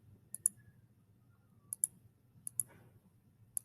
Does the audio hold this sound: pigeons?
no